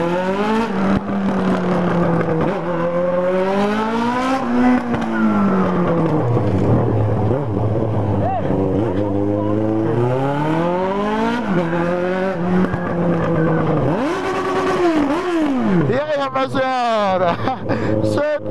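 A Yamaha XJ motorcycle engine revs hard and continuously, pitch climbing and falling in repeated sweeps, loud and close, ending in a burst of higher revving.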